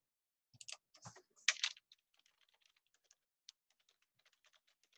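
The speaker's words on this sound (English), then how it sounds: "So let me write a little note here so you don't forget." Keys on a computer keyboard clatter in a quick, close burst, then trail off into sparse, fainter taps as a short note is typed in a quiet room.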